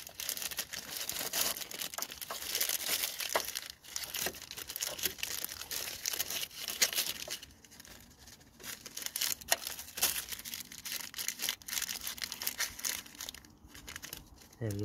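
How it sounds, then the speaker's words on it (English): Plastic packaging crinkles and tears steadily as a new transmission speed sensor for a Honda Jazz is unwrapped, a close, busy rustle that eases off partway through. "just gonna get the new one out of the packaging"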